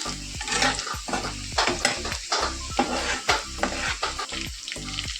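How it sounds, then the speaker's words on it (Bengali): Fish sizzles loudly in hot oil in a pan, with repeated scraping and stirring strokes of a utensil against the metal, steady and close throughout. "মাছ ভেজে দিই"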